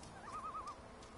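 A short series of four soft, warbling bird calls in quick succession in The Vanishing of Ethan Carter, over a quiet, steady background hum.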